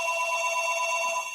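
A telephone rings steadily with a bright electronic tone during a talk show broadcast, continuous and fairly loud throughout the short stretch with no talking over it.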